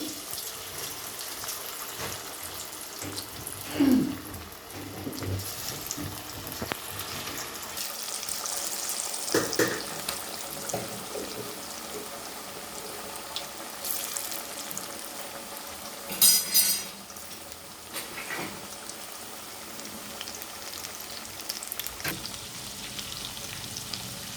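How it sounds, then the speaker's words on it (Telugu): Chicken pakodi, masala-coated pieces, deep frying in hot oil with a steady, close bubbling sizzle throughout and a few sharper crackles and clinks along the way. "ఇది బాగా వేగుతుంది కొంచెం గోల్డెన్ బ్రౌన్కి వచ్చిన తర్వాత తీసేయాలి"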